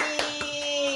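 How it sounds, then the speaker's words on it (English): A few sharp hand claps ring out close by, two distinct ones with a softer third, over a steady electrical hum in a home kitchen where Nigerian puff-puff is being fried. "Clap for mommy."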